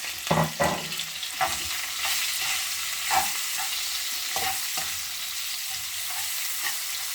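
Onions frying in a pan, a continuous close sizzle broken by several clattering stirs and taps of the utensil, with no speech.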